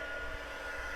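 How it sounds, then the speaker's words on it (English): A heat embossing tool blows hot air in a steady, loud, even whoosh with a low hum underneath, running alone without pause for craft work with gold embossing powder. "I'm going to grab my embossing tool"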